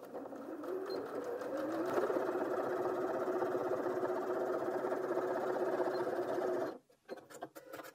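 A Janome M200QDC sewing machine runs steadily through four layers of fabric with a close, continuous whirring hum for nearly seven seconds, then stops abruptly, followed by a few faint handling clicks.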